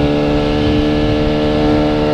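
A motorcycle on a casual ride around town gives a loud, close, steady engine roar with a strong low throb, holding nearly constant throughout. No talking.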